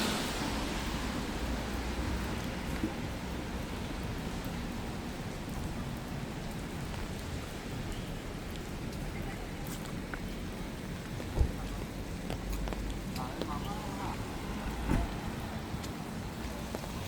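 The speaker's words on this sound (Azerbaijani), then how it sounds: "Yağışın səsi çox qəşəng gəlir" Steady rain falls across an outdoor park and lake in Guangzhou, a continuous even hiss of drops on surfaces that fills the whole stretch, with a couple of faint distant thumps and no talking.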